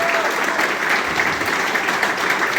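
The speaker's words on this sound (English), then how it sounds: "I think a big round of applause to our future players" A dinner crowd at a Dulwich Hill FC football club gala gives a big round of applause, dense and steady, filling the room for a couple of seconds without any voice over it.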